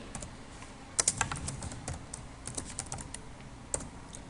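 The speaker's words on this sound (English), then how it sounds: "Then I'm going to type my name" A name is typed on a computer keyboard into a label in a Microsoft Access report: close, crisp keystrokes in uneven bursts, a few louder clacks, with no talking.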